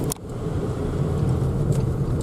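Steady in-cabin road rumble of a car cruising along a highway toward Bogorodsk, a continuous low drone with light engine hum throughout, no talking.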